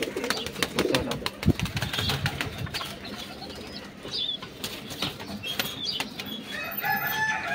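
Pigeons in a loft give low coos and flutter their wings amid rustling and scattered chirps, with a voice speaking over the birds throughout.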